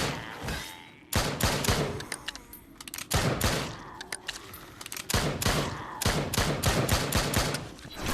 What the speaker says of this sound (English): I struggled with the use of the machine gun here